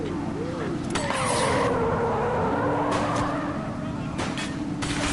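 In The Precinct, a car drives hard with tyres skidding and engine revs swooping, several sharp bursts cutting through a loud ongoing roar.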